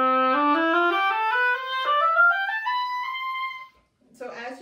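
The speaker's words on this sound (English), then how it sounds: "when I put it in the reed, in the oboe, I get this amplification and it sounds like this" An oboe played with its double reed climbs through a steady series of bright, reedy notes, loud and close, then falls silent before a brief noisy sound at the end.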